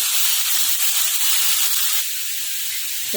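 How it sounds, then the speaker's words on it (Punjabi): Onions fry in hot oil in a pan, giving a loud, steady hiss and crackle that runs without pause and softens slightly near the end, with no voices over it. "ਪਿਆਜ਼ਾਂ ਨੂੰ ਆਪਾਂ ਭੁੰਨ ਕੇ ਤਿਆਰ ਕਰਾਂਗੇ"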